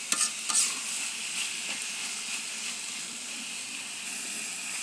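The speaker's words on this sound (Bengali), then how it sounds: "শুটকি একসাথে করেছিলাম সেটা দিয়ে দিচ্ছি। নেড়ে চেড়ে মিশিয়ে নিব।" A dried fish (shutki) mixture is stirred in a pan, with soft scraping and stirring strokes over a continuous gentle sizzle, close and fairly quiet, with no talk.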